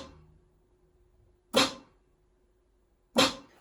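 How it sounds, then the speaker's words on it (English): A lone snare drum sample in a beat-making session hits twice, about 1.6 seconds apart, each a sharp, loud crack with a quick decay and near silence between. "The snare by itself sounds like this."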